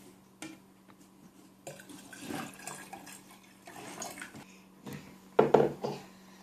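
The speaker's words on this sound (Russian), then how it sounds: "и сейчас добавим соленой воды." Salt water pours and splashes into a container holding an egg in short bursts, with light knocks and handling sounds, fairly close and without speech.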